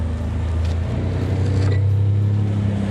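The engine of a small motorboat on a cottage boat, one that had been struggling to get enough fuel, runs loud and close. Its steady low drone climbs in pitch as the throttle is opened, with no voices over it.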